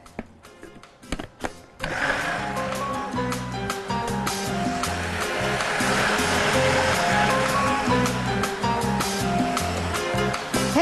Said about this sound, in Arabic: خلاص هنضرب بقى الخليط ده لوحده.